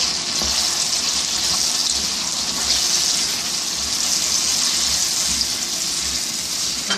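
An aloo shimla mirch mixture with ketchup is stirred in a hot pan, and a steady, loud sizzle dominates, with faint scraping moving through it. No talk.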